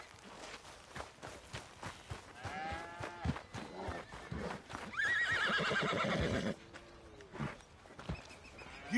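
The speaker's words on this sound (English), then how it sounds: "Need a hand with that horse?" A horse whinnies several times in Red Dead Redemption II, its high neighs standing out over soft hoof clops and footsteps, one long loud cry in the middle, fairly close and with no talk.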